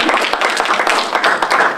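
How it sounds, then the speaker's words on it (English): A council forum audience gives a brief burst of clapping, many hands together at close range, dense and even over a couple of seconds. "applause."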